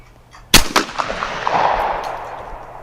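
A shotgun fires one loud, close shot at a clay target on a skeet range, high house first, with a sharp crack followed by a long rolling echo that fades slowly.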